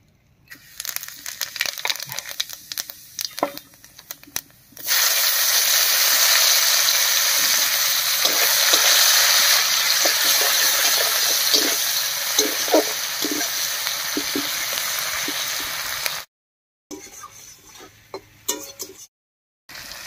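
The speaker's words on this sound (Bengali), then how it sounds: "মাছ ভাজার এই তেলেই ফোড়ন দেব, আর ফোড়ন দেব গোটা জিরা আর পেঁয়াজ কুচি দিয়ে।" Whole cumin and chopped onion frying in leftover fish-frying oil, a loud steady sizzle with crackling and pops that starts abruptly and runs for about eleven seconds, framed by quieter clattering kitchen handling before and after.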